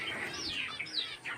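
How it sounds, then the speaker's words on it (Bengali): Bengalese finches kept in a rooftop aviary give a quick run of high, thin chirps and short tweeting calls, several overlapping notes close by, with no talking. "আর এগুলো রয়েছে বেঙ্গলি ফিঞ্চ।"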